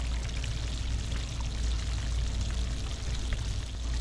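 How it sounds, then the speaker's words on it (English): Water drains steadily from an RV grey tank being backflushed, a dense continuous pouring rush with a low rumble, close and unbroken for the whole stretch. "Now that's draining like it's supposed to."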